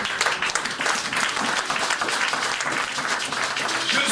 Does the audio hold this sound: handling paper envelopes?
no